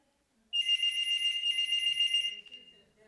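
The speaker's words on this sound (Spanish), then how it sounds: "Suena aquí el teléfono." A telephone rings during a talk about heritage, a bright electronic trill that starts abruptly, holds for about two seconds and then cuts off, fairly clear in a quiet room.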